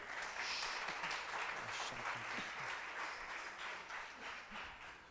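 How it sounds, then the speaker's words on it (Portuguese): Audience applause at an evangelical missionary gathering, a continuous, even roar of many hands clapping that sounds distant and faint throughout. "Aplauda com vontade."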